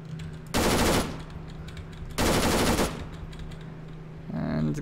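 Two long bursts of SAW machine gun fire in a video game, loud and close, a short pause between them, with a faint voice briefly under the game audio near the end.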